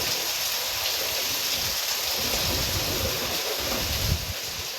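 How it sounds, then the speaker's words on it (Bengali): Steady rain falls outdoors near Sodepur railway station, beside a pond, as a dense, even wash of hiss with a slight swell near the end. "একটু বৃষ্টিটা আবার এখন থামছে"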